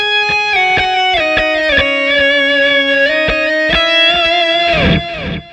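A lead electric guitar solo from the first half of a song, shaped by a multi-effects unit: sustained, singing distorted notes with quick picked runs and bends, ending in a descending slide.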